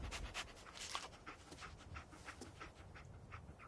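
Dogmeat, the German shepherd companion from Fallout 4, pants in quick, steady breaths close up, a continuous rhythmic huffing with no talk over it.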